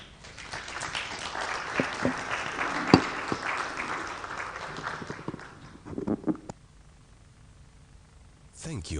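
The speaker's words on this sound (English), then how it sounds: "Give a round of applause for him." Audience applause for a speaker at an international technology conference, a rising patter of clapping that swells and then thins to scattered claps, with voices talking over it and a short burst at the end.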